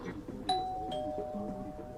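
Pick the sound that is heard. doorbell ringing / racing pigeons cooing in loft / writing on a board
doorbell ringing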